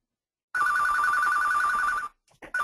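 A telephone rings steadily for about a second and a half, its electronic bell tone loud and close, then cuts off; a brief second ring begins just before the end, with no talk over it.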